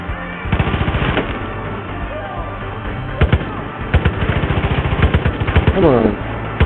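Rapid bursts of automatic gunfire in the video game Far Cry 5, loud clattering volleys broken by short pauses, with single sharp shots and a brief swooping electronic tone near the end.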